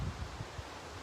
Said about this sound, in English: it's windy out here, really, really windy